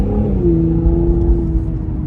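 Cadillac CT5-V engine accelerating under throttle, a steady throaty low drone with a rising harmonic that holds loud and close for about two seconds, with no talking.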